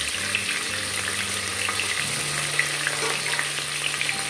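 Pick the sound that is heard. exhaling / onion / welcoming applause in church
onion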